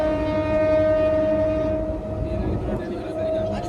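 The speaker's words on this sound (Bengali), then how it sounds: "তারপর আমাদের ট্রেন ছেড়ে দিল" A passenger train pulls out of Duan station, a busy platform between Howrah and Kharagpur, with a long sustained horn tone over rumbling rail noise and crowd murmur, fading slightly toward the end.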